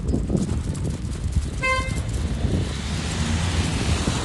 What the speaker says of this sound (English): Why are you honking your horn at me?